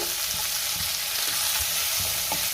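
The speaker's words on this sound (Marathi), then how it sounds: "आता त्यातच आपल्याला टोमॅटो घालायचा आहे आणि पुन्हा 2 मिनिटं परतून घ्यायचे" Onion and tomato sauté in a pan with a steady, close sizzle, and a utensil stirring them taps and scrapes in a loose rhythm.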